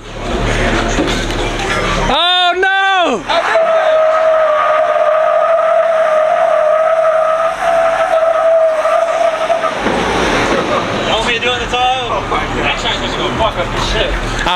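Car wheels spin hard in a loud tire-squealing burnout, with a sustained high screech over engine roar through most of the stretch, bracketed by short bursts of revving; people talk nearby.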